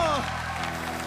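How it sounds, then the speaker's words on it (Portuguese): A church congregation at an evening Baptist service applauds in a brief burst of dense, steady clapping, heard beneath a voice speaking. "Aplausos ao Senhor."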